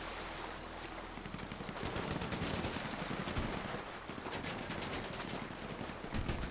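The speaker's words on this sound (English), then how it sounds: "Why are they shooting me?" Rapid bursts of gunfire in an online roleplay video game, dense crackling shots repeating loudly and steadily throughout, with overlapping volleys and no talk.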